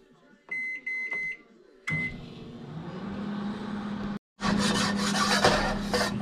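A microwave oven heating pizza pops, with a few short beeps at the start, then a steady mid-pitched hum that runs until a brief silence, followed by louder rattling and rubbing noise.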